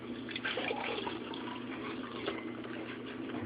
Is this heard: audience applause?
no